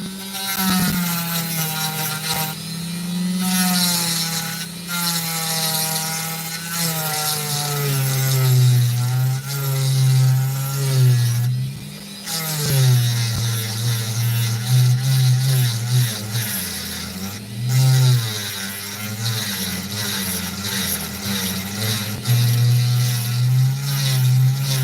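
A Dremel rotary tool cuts into opal, a loud, continuous high-pitched whine that holds steady for the whole stretch, its pitch wavering and dipping slightly as the load on the bit changes.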